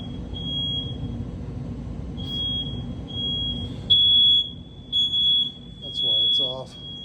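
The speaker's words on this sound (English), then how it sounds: "So the smoke detectors probably all need to be replaced." A smoke detector in a basement sounds repeated high-pitched electronic beeps, steady at first and then in short bursts, close and loud over a low background rumble, with no talking.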